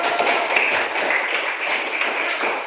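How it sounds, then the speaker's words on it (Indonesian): A classroom of students gives a group presentation a round of applause, a dense, even burst of many hands clapping that holds steady throughout. "beri tepuk tangan dulu yang untuk kelompok 1"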